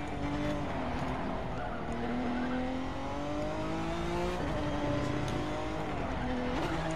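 A Corvette C8 engine drones loudly in The Crew 2 racing game, its pitch rising and falling as the car brakes into a turn and then accelerates out of it, with faint tire noise under a steady, close engine tone.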